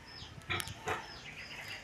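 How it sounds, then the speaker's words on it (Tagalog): A sow grunts a couple of times in quick succession, fairly close, in a pen with a mud floor, with quiet background noise and no talking. "Naugok ang baboy."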